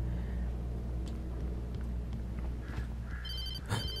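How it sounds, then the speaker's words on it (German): Mobile phone ringing in Alan Wake, a short bright electronic ring bursting in near the end over a low rumbling game background. "Oh, mein Handy. Es ist nur mein Handy."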